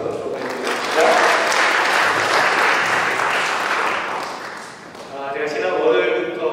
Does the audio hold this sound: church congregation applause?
yes